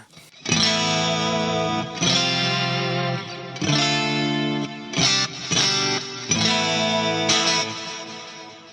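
Electric guitar chords played in short phrases with a shimmering chorus effect run in parallel on a Fractal FM9 Turbo and light distortion, ringing with a bit of reverb.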